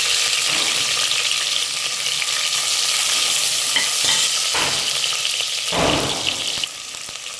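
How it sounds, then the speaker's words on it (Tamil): Thinly sliced onions sauté in oil for mushroom biryani after cashews were browned, a steady close sizzle with stirring scrapes and clinks of the spoon against the pan. "வெங்காயம் நல்லா கோல்டன் கலராக வதங்கட்டும்."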